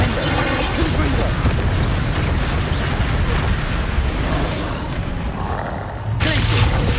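A Confringo fire spell bursts in Hogwarts Legacy on PS5, one blast amid a loud, dense wash of continuous battle effects, with a fresh surge of noise near the end.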